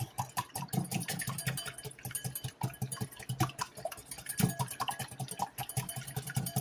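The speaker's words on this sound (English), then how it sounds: "I'll whisk those up." Double-yolk eggs are whisked briskly in a bowl, a fast irregular patter of clicks and taps from the whisk, close but soft, with no voices.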